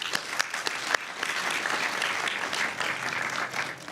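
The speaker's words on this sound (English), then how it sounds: "extend a huge round of applause to all the graduates sitting here" Sustained applause from a graduation crowd honoring the 2024 graduates at the UGA Griffin campus ceremony, dense and steady with a few sharper claps standing out near the start, no talking over it.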